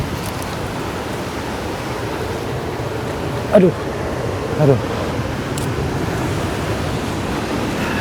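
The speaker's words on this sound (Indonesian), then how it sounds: "gemuruh ombak, suaranya itu jelas banget terdengar" Waves roar around an island in a loud, continuous broadband wash of surf, with a person briefly exclaiming and a couple of short vocal sounds partway through.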